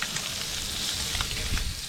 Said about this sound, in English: Nice sizzle. Look at them go.